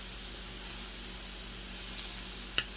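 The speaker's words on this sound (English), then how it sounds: "So now what I'm going to do is I'm going to turn my shrimp over." Shrimp sizzling in a hot pan as they are turned over, a soft steady hiss with a few faint clicks and taps, no voices.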